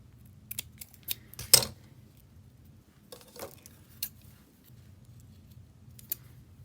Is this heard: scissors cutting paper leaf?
yes